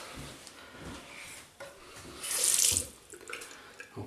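Running tap water gushes as a 1966 Schick Krona double-edge safety razor is rinsed, a bright burst of splashing rising mid-clip and fading, with soft rubbing and handling sounds around it.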